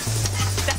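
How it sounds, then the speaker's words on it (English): Dry noodles sizzle and fry on a hot teppan griddle in a busy restaurant kitchen, a brief continuous hiss with faint stirring scrapes close by. "The teppan or griddle section, making six different dry noodle dishes"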